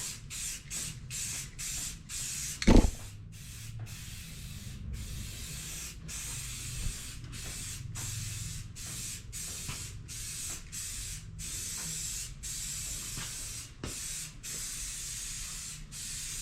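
Spray paint hissing onto a hot car side pipe on the passenger side, in a rapid series of short close bursts with brief pauses between, plus a single sharp knock partway through.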